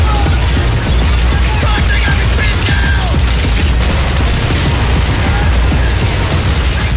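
Dense gunfire fills an indoor close-quarters map in Battlefield 3, with rapid, loud automatic bursts from carbines and machine guns rattling without a break alongside scattered impacts.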